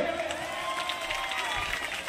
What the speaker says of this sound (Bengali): এদের দুজনের জন্য জোরে হাততালি হবে